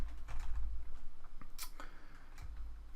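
Someone typing a Python command on a computer keyboard, a quick close run of irregular plastic key clicks with short pauses and one sharper keystroke, no talk.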